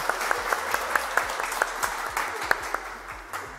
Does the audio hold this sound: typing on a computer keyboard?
no